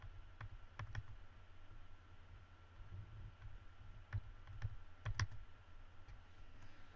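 A computer mouse clicks faintly in a quiet room while working in Photoshop, sparse single and double clicks scattered irregularly over several seconds.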